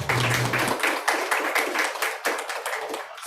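An audience at a Srimad Bhagavat Saptaham discourse on day three bursts into steady, dense clapping that fills the hall at close range, with a low hum at the start and no one speaking.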